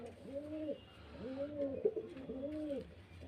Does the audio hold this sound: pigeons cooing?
yes